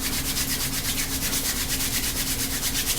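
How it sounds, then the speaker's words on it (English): Two hands rub briskly together in a steady, continuous back-and-forth, making a dense, loud, hissing friction sound with a quick even rhythm, very close and alone. "I like to rub my hands"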